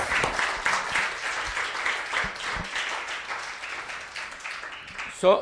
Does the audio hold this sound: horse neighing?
no